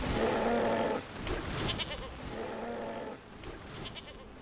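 A goat bleats in the card game MTG Arena. The bleat is drawn out, wavering and repeated twice, with quieter game sounds and a low bed of noise beneath it.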